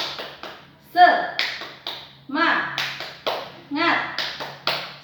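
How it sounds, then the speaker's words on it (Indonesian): A school class claps in a quick rhythmic pattern, mixed with short chanted voices joining in between the claps. "Tepuk semangat dulu yuk."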